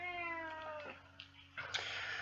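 A cat meows several times at close range, each call drawn out with a clear harmonic tone, in a quiet indoor room with a faint steady hum beneath.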